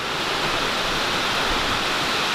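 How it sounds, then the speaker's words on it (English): Heavy rain pours down in Florida outdoors, producing a dense, steady hiss of water that stays constant and loud throughout, with no voices. "It's pouring rain right now."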